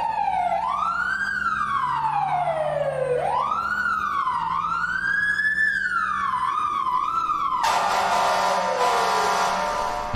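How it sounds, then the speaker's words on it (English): A fire engine's wailing siren in the EmergeNYC game rises and falls loudly and continuously, then a blaring air horn cuts in near the end, all close and dominant. "Man, she's got a loud horn."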